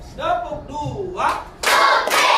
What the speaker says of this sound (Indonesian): Kita tepuk semangat dulu nanti. Bisa semua tepuk semangat?